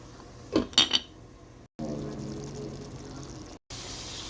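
A lid goes onto a pan of spiced goat liver with a few sharp metallic clinks up close. A quiet, muffled simmer follows, broken by two brief silent gaps.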